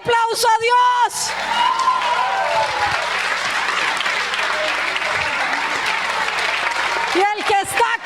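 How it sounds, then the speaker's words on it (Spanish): A church congregation bursts into loud, sustained applause lasting about six seconds, with voices shouting just before it begins and as it ends. "Levántale ese aplauso a Dios."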